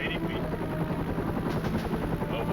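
A military helicopter flies over flat Iraqi desert terrain, its rotor giving a steady, close, continuous chop and drone heard from inside the cabin.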